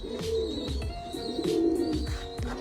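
Racing pigeons coo in a loft, repeated soft throaty rolling calls from several birds close by, overlapping in an uneven rhythm with no talk.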